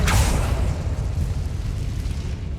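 An Incendio fire spell in Hogwarts Legacy goes off as a single loud, booming blast and then settles into a low, rumbling roar that fades slowly, with no voices.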